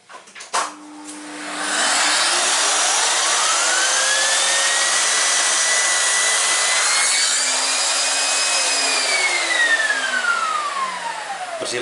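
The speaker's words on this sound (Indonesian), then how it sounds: "vacuum cleaner." A vacuum cleaner sucks up wood dust from tuning a block plane. It starts with a couple of knocks, then drones loud and close for about ten seconds, its pitch slowly rising and falling as the nozzle moves.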